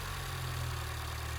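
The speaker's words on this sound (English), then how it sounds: "Now to start the engine and let it idle for a few moments." A 2014 Ford Fiesta ST engine idles steadily just after an oil and filter change, a continuous low rumble with a smooth, even tone and no voices over it.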